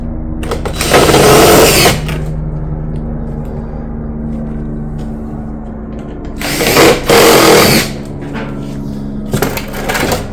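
A power drill drives fasteners through a barrel vault roof tile into the battens in two sharp whirring bursts, each a second or so long, with a shorter third burst at the end over a low steady background hum.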